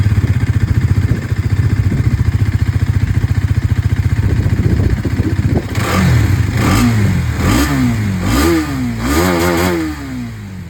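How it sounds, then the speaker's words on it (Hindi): A 2025 Hero Xtreme 250R motorcycle engine idles with a steady, loud chug, then revs up and down repeatedly in sharp bursts, the exhaust roaring close by. "जो एग्जॉस्ट साउंड है वो मैं आप लोगों को सुना दूं।"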